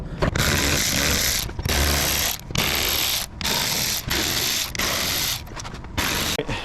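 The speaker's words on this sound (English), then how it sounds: "let's go ahead and remove all the 7 mils" Ratchet wrench loosening 7 mm bumper bolts on a Cadillac CTS-V3, a loud, near, continuous clicking with several short pauses between runs.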